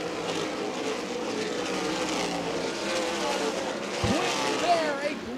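Race cars in an ARCA/CRA Super Series event at Winchester Speedway roar past in a continuous pack, engine drone holding steady with a brief low thump near the end, under excited commentary.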